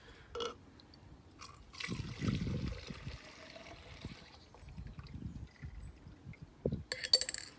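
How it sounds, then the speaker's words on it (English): Tequila trickles and splashes through a sieve into a container, straining out seeds, with soft intermittent pouring and a few clinks of glass at the end. "you simply pour off the tequila, just getting rid of all the seeds"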